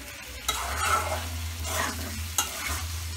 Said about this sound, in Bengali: ফোড়নটা মোটামুটি ভালোভাবে একটু মাহাইবেন তরকারিটা যাতে মশলাটা এটার মধ্যে কষে